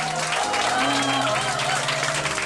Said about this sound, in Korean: 박수가 너무 좋습니다